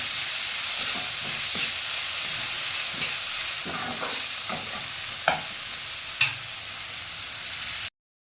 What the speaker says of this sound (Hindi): एबे ब्राउन कलर आसिया पर्यंत आमे को फ्राई करबा।